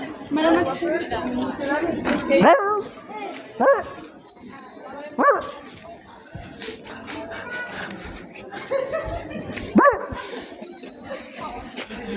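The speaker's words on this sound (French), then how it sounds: "Oh chien." A dog barks and yips in several sharp bursts, with whimpers in between, sounding fairly close, while people talk around it.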